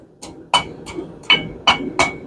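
A hand hammer strikes hot steel at the edge of an anvil during hand forging of a steak flipper. About six sharp, ringing blows land in a steady rhythm at close range.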